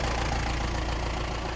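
A tuned, lifted Roxor off-road vehicle engine runs close by with an even, loud, low rumble, holding steady over a short stretch without speech.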